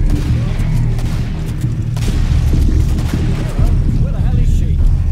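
Incendiary grenades burst in the game Killing Floor on the West London map, a dense rumbling barrage of booms and crackling fire rolling continuously and loud, with gunfire mixed in.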